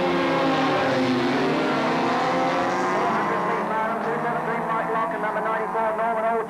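Rallycross cars from a 1985 winter series at Lydden Hill charging down into the first corner, a loud blend of engines droning and shifting pitch together as the pack moves through, heard under a commentator's voice.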